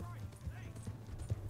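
Horse hooves galloping in Red Dead Redemption 2, a steady low rhythmic thudding that runs the whole way through under people talking.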